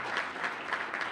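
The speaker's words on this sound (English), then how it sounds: "Let's give Janet another big round of applause." An audience at a parent leaders' education summit applauds steadily, a dense wash of clapping heard from the room without pauses.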